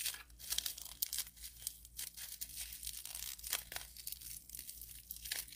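Sticky putty packaging is torn open close up, giving quiet, crinkly ripping bursts in uneven spurts with no voices.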